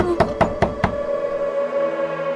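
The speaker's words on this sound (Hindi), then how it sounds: "तभी उनके कमरे के दरवाजे पर कोई दस्तक देता है" Four quick, evenly spaced knocks land on a room door close by, followed by a lingering faint ringing tone and no voices.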